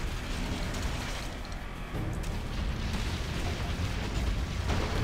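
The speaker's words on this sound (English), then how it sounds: "that cannon!" In the Torchlight 2 video game, a cannon fires amid continuous rumbling blasts and booms, loud and dense throughout, with heavy impacts building toward the end.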